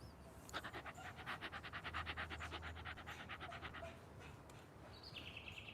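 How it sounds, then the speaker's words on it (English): A dog pants rapidly and steadily nearby, a quick rhythmic huffing that lasts several seconds over faint background noise, with a brief chirp near the end. "Oh, it's another doggy."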